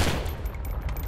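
Gunfire in Postal 4 video game: a quick, loud burst of rapid shots up close, lasting about a second.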